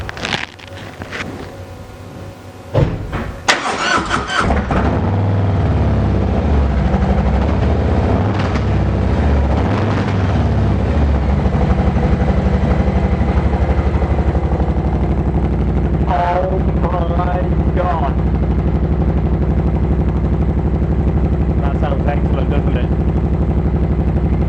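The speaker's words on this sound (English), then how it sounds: "Okay, so that's the Vance Hines exhaust system fitted on. Let's fire it up and see what it sounds like." A 2018 Harley-Davidson Softail Heritage Classic fitted with a Vance & Hines Eliminator 300 exhaust starts with sharp bursts, then settles into a loud, steady, close rumbling idle that runs unbroken for about twenty seconds.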